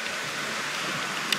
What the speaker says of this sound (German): wir wurden unterbrochen von ein bisschen Regen